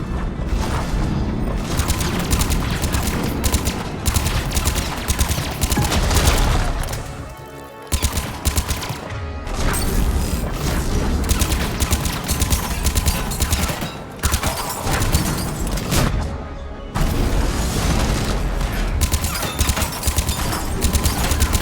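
Dense, continuous gunfire and explosions fill a Mass Effect 3 combat scene, with sustained rattling bursts and booms that drop out only in a few short gaps.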